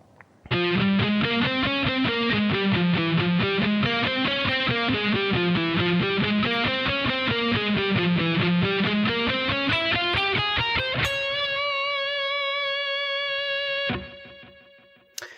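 Distorted electric guitar plays a solo at slow speed: a steady, continuous run of legato notes rising and falling, ending on a sustained held note that rings out alone.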